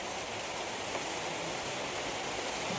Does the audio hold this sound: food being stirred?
no